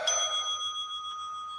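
A single bell is struck once during a guided breathing meditation. It rings with a clear metallic tone and fades slowly over about a second and a half, with no other sound around it.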